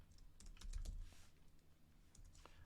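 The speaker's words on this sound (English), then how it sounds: "I can't spell when I'm typing" Quiet, close computer keyboard typing with irregular bursts of keystrokes, soft clicks clustering in quick runs with brief pauses between them.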